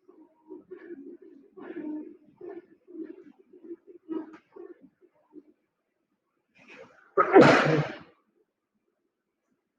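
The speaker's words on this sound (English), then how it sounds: "Excuse me, just sneezed." A single close, sharp sneeze bursts out loudly after several seconds of quiet, murmured speech and a pause.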